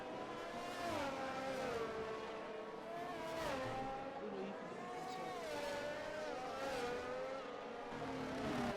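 Formula 1 race cars on the starting grid at the Brazilian Grand Prix, engines droning and rising in pitch as they rev steadily and loudly throughout, with faint voices under the engine noise.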